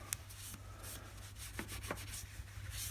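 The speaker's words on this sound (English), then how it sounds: "So now we'll just take a rag," A rag rubs wax off a 20 MOA steel scope base on a Savage rifle: soft, close scuffing strokes with a few brief squeaks over a steady low hum, no talking.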